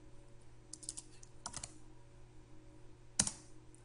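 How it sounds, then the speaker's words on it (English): Keystrokes on a computer keyboard as a short search name is typed into xBase v12 contact software: a few faint, scattered clicks, then one sharper tap near the end like the Enter key, with no talking. "I am looking for Dawn Budgie, so I am simply going to type in Dawn and hit Enter."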